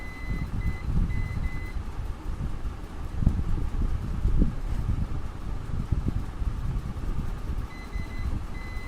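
Continuity beeps from a multimeter testing a transformer's auxiliary coil, short clipped electronic tones at the start and a sustained one near the end, over handling noise and background hiss, with no voices.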